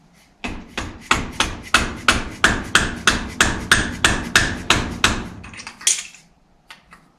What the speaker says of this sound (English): I'm just going to drive that with a socket set